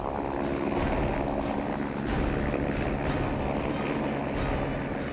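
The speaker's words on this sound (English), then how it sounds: "a helicopter with a camera on it" A camera helicopter flies during a chase-scene shoot for Independence Day: Resurgence, its rotor giving a steady, dense, pulsing drone throughout, fairly distant and unaccompanied by speech.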